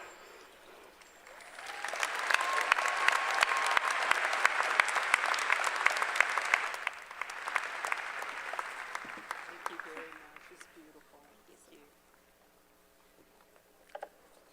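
A commencement crowd applauds the student speaker, the clapping swelling quickly to a loud, dense wash, then thinning and fading out, with scattered claps near the end.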